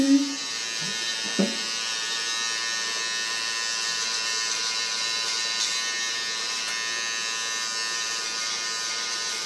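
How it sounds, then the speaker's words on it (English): An electric hair clipper buzzes steadily and closely while cutting hair, a constant droning hum that continues unbroken for nearly ten seconds after a few brief knocks at the start. "my hair is fighting against the clipper"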